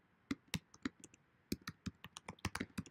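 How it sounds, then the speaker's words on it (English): Quiet, uneven typing on a computer keyboard, with scattered individual keystrokes clicking in short irregular bursts and pauses, nearby and alone. "Boy, I am really bad at typing."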